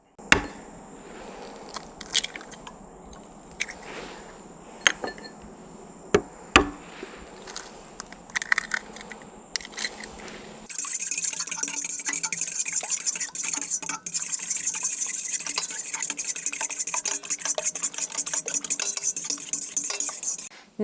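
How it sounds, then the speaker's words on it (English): Eggs hand-beaten with a fork in a bowl while baking a pie: scattered metallic clinks at first, then a steady, rapid, continuous clatter of fork against bowl, close and without talk. "And then I'm going to hand beat them with a fork."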